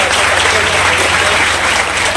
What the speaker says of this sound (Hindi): तो एक बार जोरदार तालियां साहब